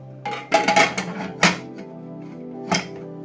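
A few sharp metallic clacks and clatters of a pressure cooker lid being closed, with a low steady hum underneath.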